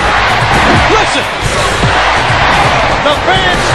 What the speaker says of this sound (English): The fans chanting USA.